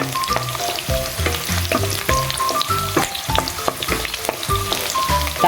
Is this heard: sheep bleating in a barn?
no